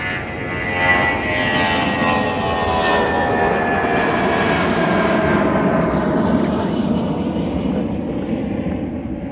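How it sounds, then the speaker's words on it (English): United Airbus A319 taking off from runway 30 left at Minneapolis–St. Paul airport, a loud sustained engine roar with a rising and falling whine as it passes, steady throughout, with faint talk nearby. "Airbus, United departing runway 30 left with an A319."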